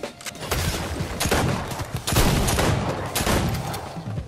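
Rapid bursts of gunfire in the Fortnite video game, dense overlapping shots crackling loudly through the whole stretch, with a brief lull near the middle before another volley.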